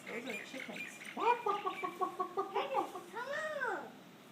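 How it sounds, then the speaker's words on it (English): Chickens cluck close by during outdoor feeding, with a run of rapid repeated calls followed by a drawn-out rising and falling call, mixed with other bird sounds and people talking. "Those are chickens."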